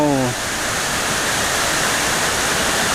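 Huai Mae Khamin waterfall in Thailand, running high after a storm, roars as a loud, steady rush of falling water. A brief voice is heard at the very start before the water sound continues alone.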